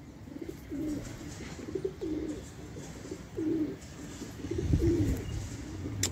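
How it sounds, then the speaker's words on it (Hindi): Pigeons coo close by at a breeder's loft, several soft rounded phrases repeating every second or so, with a low rustle and handling noise beneath and no talk. "ये देखें माशाल्लाह ये कबूतर है जी"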